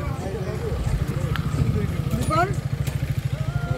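Motorcycles idle while lined up at the Bhutan border crossing near Samrang on a ride from Assam. Their low engines throb in a rapid, even pulse close by, and voices talk over the rumble.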